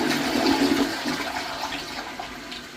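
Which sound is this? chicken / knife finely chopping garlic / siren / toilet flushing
toilet flushing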